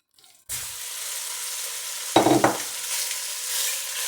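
Pork neck dropped into a pot thinly coated with hot lard, bursting into a loud steady sizzle with a brief clatter of stirring partway through, close and continuous.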